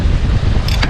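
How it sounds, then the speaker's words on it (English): Wind buffets the microphone in a steady low rumble, with a brief rushing swell near the end, outdoors near open water. "as soon as we start talking, a little bit of gusts comes in"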